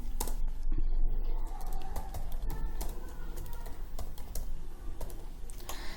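Steady rapid typing on a computer keyboard while writing Python code, a dense run of close, crisp key clicks continuing throughout over a constant low hum.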